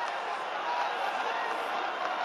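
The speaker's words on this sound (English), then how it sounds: "And the crowd are well behind their team now" Stadium crowd noise from a soccer video game, a steady broadband roar of cheering supporters held at constant loudness throughout, with no break or single standout shout.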